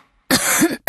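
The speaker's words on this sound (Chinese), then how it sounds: "我见那老婆婆弯着悠悠咳嗽起来" An old woman coughs in an audio drama, one close, rough, sustained cough followed by a short second burst.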